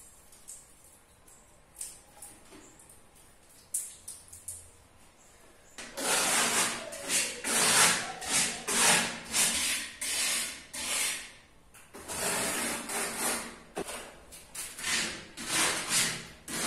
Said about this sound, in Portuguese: Agora eu vou estar passando esse pedacinho de madeira aqui, rodando aqui para estar tirando um pouco do grosso e dando uma acertada nas gretinhas.